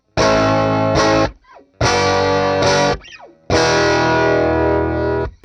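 A heavily overdriven 1953 Fender Princeton tube guitar amp blasts three loud sustained chords, with short pick scrapes and squealing slides between them.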